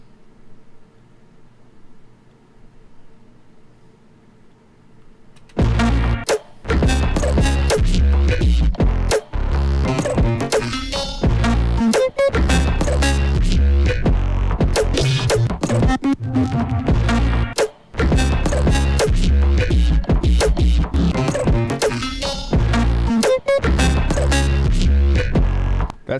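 An Elektron Analog Heat effects unit pumps out loud, dense, distorted broadband texture in choppy repeating bursts with abrupt dropouts, following a few seconds of quiet low hum at the start.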